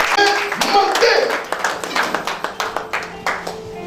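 A church congregation claps in worship, with rhythmic hand claps settling into a steady beat alongside voices and singing, fairly close and lively.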